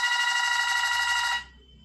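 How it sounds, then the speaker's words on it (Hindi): The indoor unit bell of an audio door phone rings in a continuous electronic trill for about one and a half seconds, then cuts off to near silence. "तो इंडोर पर बेल बजेगी"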